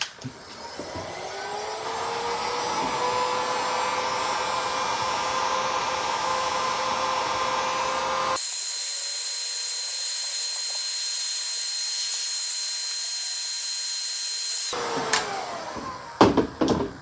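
A heat gun shrinks single-wall heat shrink tubing during a Jeep JK 3.8 liter oil pressure sender replacement. A close, steady blowing hum runs for about eight seconds, then shifts to a thinner whine, and a few clicks follow at the end.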